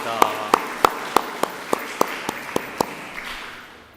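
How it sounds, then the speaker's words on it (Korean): A church congregation at a Sunday service gives a short round of applause to God, with a handful of sharp, evenly spaced claps standing out over a soft crowd murmur that fades at the end. "우리 다 같이 하나님께 영광의 박수를 올려드립시다"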